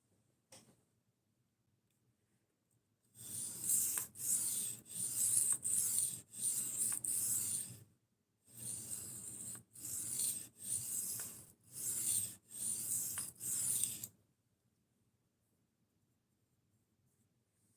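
A knife drawn across a 1000 grit whetstone in two sets of rapid rhythmic rasping strokes, about seven quick passes each, separated by a short pause, close and clear against a quiet background.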